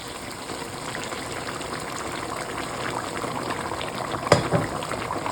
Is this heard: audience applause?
no